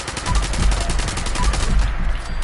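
Rapid, sustained automatic gunfire from an Elder's Mark rifle in Fallout 76, a continuous loud burst of closely spaced shots held on the trigger.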